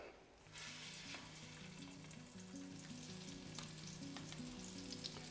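Flour-and-egg coated chicken cutlets fry in a skillet for chicken francese, producing a loud, dense, continuous sizzle and crackle, with a low musical tone playing underneath and no talking.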